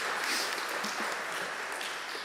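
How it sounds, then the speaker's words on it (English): A community gathering claps for the young speakers in a sustained round of applause, fairly faint and distant, a steady smear of many hands without distinct individual claps or talk. "So I just want to give them another round of applause, and Eli as well."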